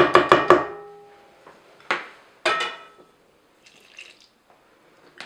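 Milk poured into an icing sugar mixture in a mixing bowl while baking a birthday cake, heard as a close burst of splashy drips and clinks, followed by a few quieter knocks and spatters with no talking.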